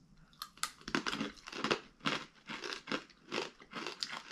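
Crunching and chewing sweet Japanese snack chips, a rapid series of crisp, close bites and crunches in an irregular rhythm.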